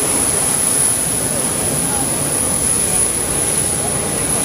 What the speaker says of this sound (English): Here's our plane.